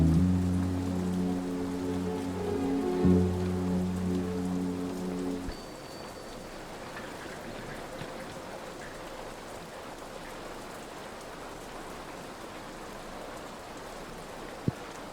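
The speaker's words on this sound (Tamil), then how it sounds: "வெளியில மழை பெஞ்சிட்டு இருக்கு" Steady rain falls outdoors at night, a soft continuous hiss that stays even throughout after a low droning hum cuts out early on.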